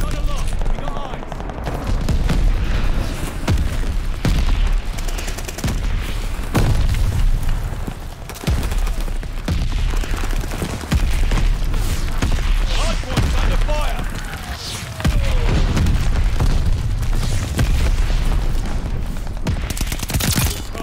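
A V2 rocket strike in a first-person shooter with an STG-44 loadout brings a dense, continuous barrage of booming explosions and gunfire, loud and relentless for about twenty seconds with brief dips, game voices mixed underneath.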